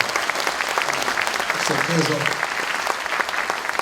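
An audience at a university president's inauguration ceremony gives a round of applause for the guest, a dense wash of clapping that runs the whole time while someone speaks briefly over it.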